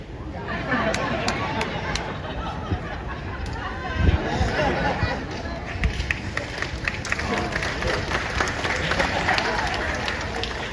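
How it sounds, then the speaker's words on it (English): Applause and crowd noise from the audience at a live bird show at Animal Kingdom, a steady dense wash of clapping and chatter lasting throughout, with people talking within it. "Called pity applause, but that is solicited applause."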